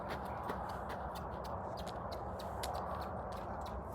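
A loose horse roaming a farmyard, its hooves making quiet irregular clip-clop steps on hard ground at a moderate distance, no talk.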